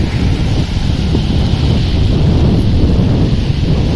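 High-tide surf on Bhuigaon beach rolls in as a steady broadband roar, heavily buffeted by wind across the microphone, close and loud with no talking.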